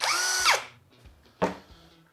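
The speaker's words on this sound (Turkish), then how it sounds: "Sonra bunu neye alıyorsunuz? Darbe moduna alıyorsunuz." A hammer drill fitted with a 10 mm concrete bit and set to impact mode whines loudly and close for about half a second, then stops; a single sharp knock follows a moment later.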